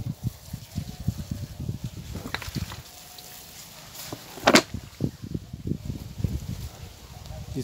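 Water poured from a container onto an aglaonema cutting and its leaves, the water mixed with fungicide; soft intermittent splashes and trickles, close and fairly quiet, with one brighter splash midway.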